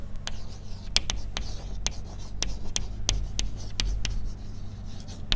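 Marker or chalk writes a math question on a board during a quantum mechanics lesson, giving a string of sharp, irregular taps and short strokes over a low room hum, close and clear with no talk.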